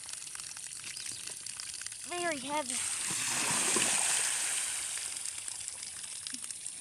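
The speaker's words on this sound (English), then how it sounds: "Start pouring out that water." A person says a couple of words, then water gushes and splashes out of a goats' algae-filled water container in a steady pour that gradually tapers off.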